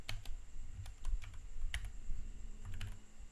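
Someone types on a computer keyboard, a close, quiet run of quick irregular key clicks with a few sharper taps, steady for a few seconds with no voice.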